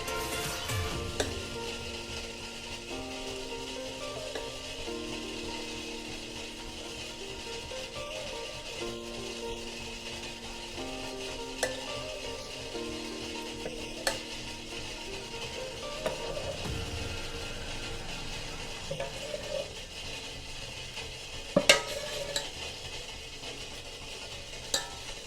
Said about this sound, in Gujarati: તો હવે આપણે ખીરું નાખી દઈશું.